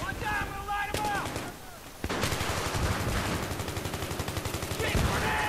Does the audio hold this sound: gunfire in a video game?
yes